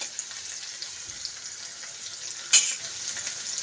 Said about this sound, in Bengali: এটা একটু ভাজা হোক মশলাটা